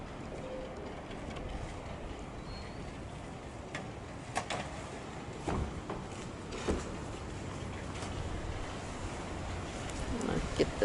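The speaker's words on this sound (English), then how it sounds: "And of course it's a super windy day." Steady broadband wind noise buffets throughout while a reclaimed window and wood greenhouse is built, with occasional thumps and faint clatter, no clear voices standing out.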